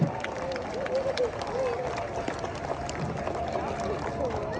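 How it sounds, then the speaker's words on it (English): At a zoo seal show, an audience claps after a seal's flip, the scattered applause mixing with crowd chatter and voices close by. "you can give him a round of applause, it's pretty impressive"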